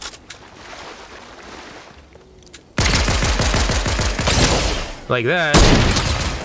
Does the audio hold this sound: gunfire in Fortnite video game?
yes